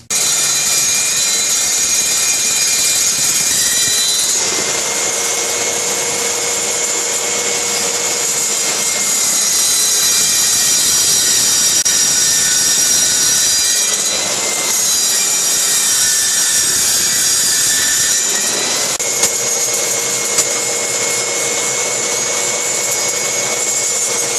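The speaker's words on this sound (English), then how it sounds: "What I'm going to do now is just turn the saw on and slowly work it in until it hits this leading edge" A circular saw runs continuously, cutting wood while shaping a ball, with a high whine whose pitch dips and recovers across several passes as the blade works into the material.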